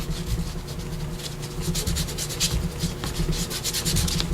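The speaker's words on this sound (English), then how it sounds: "she took some white acrylic paint. So I'm going to do the same, and we're just going to kind of rub it in, spread it out" White acrylic paint is rubbed and spread by hand across paper ephemera, making a steady, close, dry scrubbing friction with rhythmic strokes that never pause.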